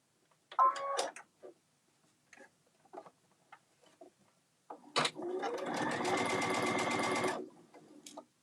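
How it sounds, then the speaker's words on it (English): A sewing machine runs steadily for a couple of seconds, stitching a quarter-inch seam on a bag, after some faint handling clicks and rustles. "we're going to sew a 1/4 of an inch seam from the top"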